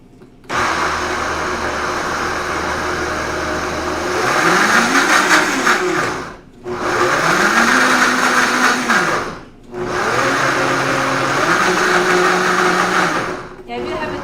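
A countertop blender whirring through hummus in three long loud bursts separated by short pauses, the motor pitch rising and shifting as the chickpea mixture churns.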